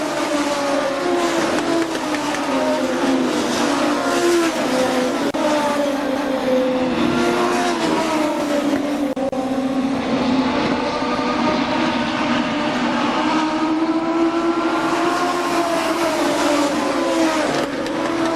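Race cars roar around Kil-Kare Speedway in a continuous, loud engine drone with shifting pitch as the pack circles, steady throughout with no gaps.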